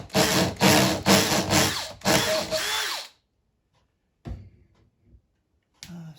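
A power drill bores through the glove box hinge of an Audi A4 Quattro in loud, close, pulsing bursts for about three seconds, then stops, leaving quiet pauses broken by a couple of short knocks and handling sounds.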